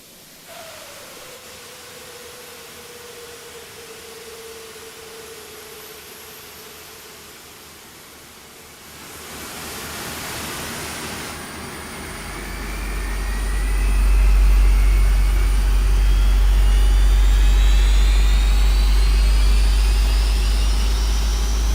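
Four jet engines of an Avro Vulcan Mk.2 bomber spool up together during a scramble start in a flight simulator: a steady whine with a deep roar that swells in, then holds as a loud, continuous rumble. No talk.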